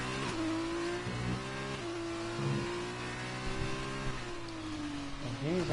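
An F2 race car in a racing video game runs a hot lap, its engine a steady, buzzing whine that dips and climbs through shifts. A commentator's voice talks over it.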